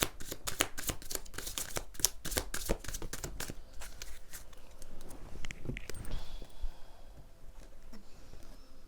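Tarot cards being shuffled by hand: a quick run of crisp riffling snaps at the start that loosens into softer sliding and shuffling, close and steady, with no one talking.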